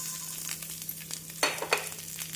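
Chopped large onions hit hot oil with bay leaf, cinnamon and cloves for a cauliflower curry, giving a faint steady sizzle with a few sharper crackling bursts as they are stirred.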